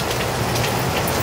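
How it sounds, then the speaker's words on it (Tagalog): Heavy typhoon rain pounding down outdoors in Quezon City with wind, a loud, unbroken hiss of rainfall close by, no talking. "ulan, hangin dito."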